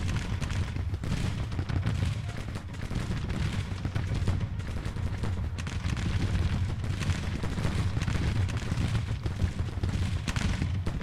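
Heavy Civil War battle from Grand Tactician at Wilson's Creek, with dense massed musket fire and artillery rumbling together in a steady, continuous roar for the whole stretch, no single shot standing apart.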